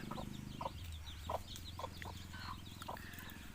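Free-range pet chickens forage and scratch under trees in a wooded yard, giving soft repeated clucks and short calls at close range, with faint birdsong in the background and no talking.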